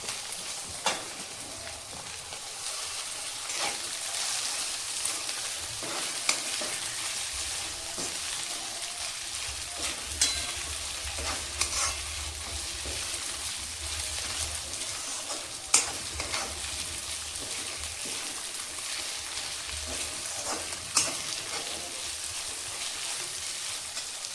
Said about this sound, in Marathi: गाजर पण मी चांगलं परतवून घेतलेलं आहे।